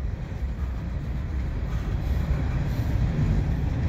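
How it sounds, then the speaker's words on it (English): CN ES44AC locomotive hauling a mixed freight train with gondola cars and covered hoppers at Dorval, a steady low rumble of rolling cars, continuous and moderately loud with no voices. "that looks like an ES44 in the front with some NSC bathtub gondola cars"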